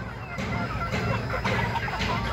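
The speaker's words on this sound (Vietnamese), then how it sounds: "Bầy gà tre này rất to đấy, đẹp không?" A flock of bantam chickens on a farm in the Mekong Delta region clucking, a dense overlapping chatter of soft clucks close by, with a voice faintly underneath.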